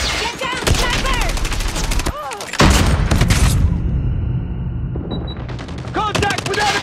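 Dense bursts of rapid automatic gunfire from a Call of Duty Mobile match, loud and close, broken by a brief lull before the firing resumes, with game voice lines mixed in.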